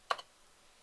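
A single close keystroke clacks on a computer keyboard, with a fainter click just after, then quiet.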